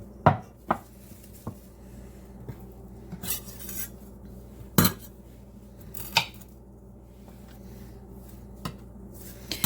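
Flat leaf parsley is roughly chopped with a knife on a board, giving a handful of sharp, scattered thuds spaced irregularly over a quiet background, close and fairly loud with no talking.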